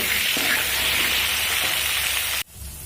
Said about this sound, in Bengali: পরিমাণ মতো লবণ দিয়ে মিডিয়াম ফ্লেম করে আলুটা আমি ভেজে নেব